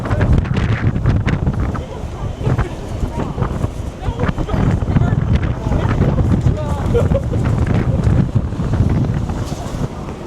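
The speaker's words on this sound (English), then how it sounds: "this wind, guys" Strong gusts batter the microphone on a New York City street, a loud, continuous roaring rumble with brief surges, and someone talks under the wind.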